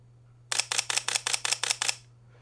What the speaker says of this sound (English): now we can tell that the shutter's going a lot faster